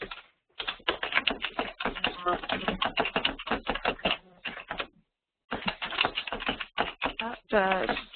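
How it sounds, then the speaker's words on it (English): Someone types on a keyboard during an online class, making rapid, uneven clicking that runs underneath a voice talking, with a brief pause partway through. "somebody's typing got really loud all of a sudden."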